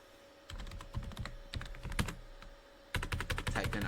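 Password typed on a computer keyboard during network switch setup, two quick bursts of close, crisp key clicks separated by a brief pause.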